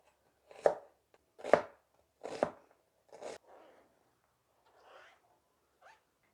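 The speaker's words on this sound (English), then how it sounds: "For the sauce, we're going to dice up a large onion." A knife dices a large onion for sauce on a cutting board, giving four crisp chopping strikes in a steady rhythm followed by a few softer scraping sounds, close and quiet in an otherwise silent kitchen.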